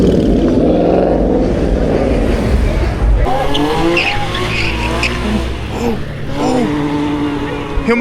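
At a Fort Myers car meet, a car skids with loud, sustained tire squeal and a revving engine nearby, followed by wavering squeals and shouting voices from the crowd.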